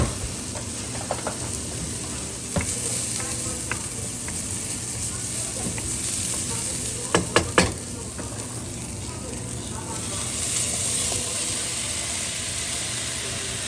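Apples with ginger sizzle steadily in a hot pan for apple chutney, a constant frying hiss with a few sharp clicks of a utensil scraping the pan partway through.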